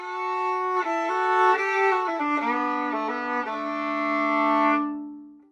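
A bowed string instrument, its bow freshly rosined, plays a clear, resonant melodic phrase of several connected notes, close and steady, then fades out at the end, with no voices.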